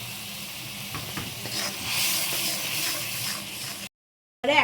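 Fish curry gravy with salt sizzling and simmering in a pan, a steady close frying hiss with soft stirring sounds, cutting out briefly near the end before resuming.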